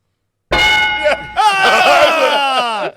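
A sustained metallic clang with rich ringing overtones, struck twice in quick succession and left to ring, loud and close with no talk over it.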